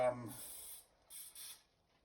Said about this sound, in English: This kind of spray is basically just canola